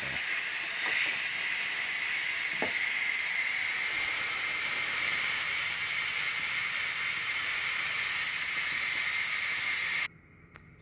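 A Ninja Foodi pressure cooker cooking BBQ chicken legs from frozen releases its pressure in a loud, steady rush of hissing steam that runs nearly ten seconds and then cuts off abruptly.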